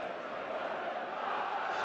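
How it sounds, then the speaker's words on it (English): Steady roar of a home crowd at a Barnsley versus Charlton football match, a dense continuous wash of voices holding at even loudness throughout the brief moment. "It's got the crowd involved, and we need to silence them again."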